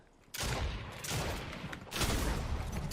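Loud, close gunfire in Fortnite rattles out in dense, sustained bursts, starting sharply after a brief quiet moment and continuing almost without a break.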